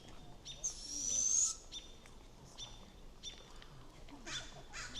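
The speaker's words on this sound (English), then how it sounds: "What do you guys think of the owl?" A juvenile barred owl calls in a city park at Whatcom Falls, Washington, giving a loud rasping screech followed by several shorter, fainter calls over a quiet, rustling background.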